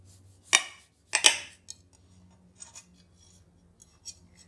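A kitchen knife chops the top and bottom off an orange over a dish for marmalade, giving two or three sharp, close cutting knocks with a few faint scrapes and taps between.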